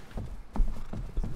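Horse hooves clip-clop at a steady walking rhythm, a few soft thuds spaced about a third of a second apart, moderately close with no voices over them.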